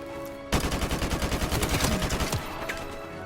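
Rapid bursts of AK-47 fire in Call of Duty, a fast rattling volley that begins abruptly and stays loud and evenly paced before cutting off, with a fainter shot after it.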